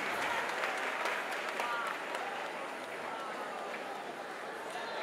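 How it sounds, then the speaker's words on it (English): An audience applauds a young artist at an event, with a dense, steady patter of clapping that stays fairly even throughout and fades slightly toward the end. "a round of applause for our brilliant 11-year-old artist"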